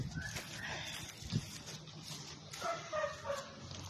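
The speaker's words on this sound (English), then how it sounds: "but I keep hearing a dog" Dog barking outdoors on a hot day, with a few faint, distant yips and woofs scattered across the stretch over a low background hum.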